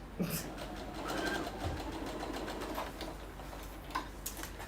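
A sewing machine runs steadily while top stitching a seam on either side of a roll-up bag, a close, continuous mechanical whirring with faint clicks throughout.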